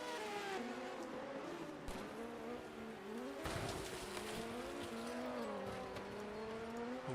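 Vintage 1980 Procar race cars at the Monaco Grand Prix street circuit, several engines droning and shifting pitch while tires squeal and skid as one car goes off the track, heard from a distance.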